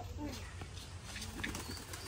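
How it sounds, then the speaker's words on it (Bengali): Pigeons being fed wheat in a village, soft cooing and a brief flutter heard close by over a steady low background hum, with no talking. "আর এখন আমাদের পায়রাকে গম খাওয়ানো হয়"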